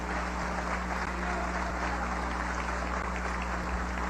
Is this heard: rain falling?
no